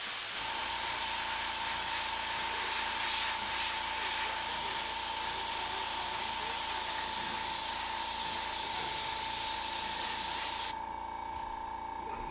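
An airbrush sprays paint over skull stencils in one continuous, loud, close hiss with a steady compressor tone underneath, easing slightly just before the end.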